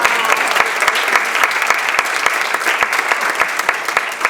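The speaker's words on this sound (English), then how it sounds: "if you could give her a round of applause on her birthday" A crowd applauds for a birthday at a breakfast reception in the Dominican Republic: dense, steady clapping from many hands, close and loud throughout, with no voices over it.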